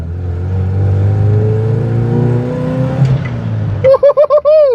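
A Volvo 240 project car pulls hard in second gear, its engine note climbing steadily and loudly for about three seconds before easing off, then a few short whooping voice bursts at the end.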